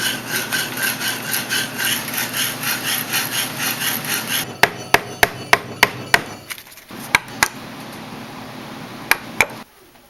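Fine finishing work on the underside of hand-carved walnut tray handles: steady rhythmic rasping strokes for several seconds, then a series of sharp, separate close-up taps and clicks.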